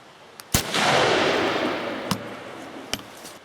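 An unsuppressed Savage .338 rifle with no muzzle brake fires one loud, close shot followed by a long rolling echo that slowly fades, with a few fainter sharp reports afterward.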